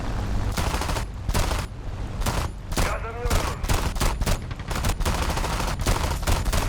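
Rapid bursts of jet cannon fire in a combat flight video game, loud dense rattling volleys repeating in clusters with brief gaps, continuous engine roar underneath.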